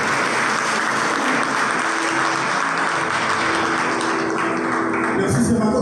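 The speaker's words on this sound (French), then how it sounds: "on peut encore applaudir Bijou Sinat qui va donc faire ça" At an awards ceremony in Paris, a large audience applauds in a dense, steady wave of clapping for several seconds, with a voice cutting in near the end.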